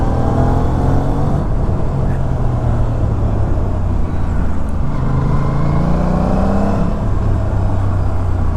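An Aprilia RS 457 motorcycle being ridden, its engine droning close and loud throughout, the pitch climbing and dropping as it accelerates and shifts, over constant wind rush.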